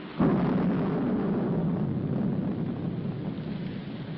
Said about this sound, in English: Put this top up. It's going to rain.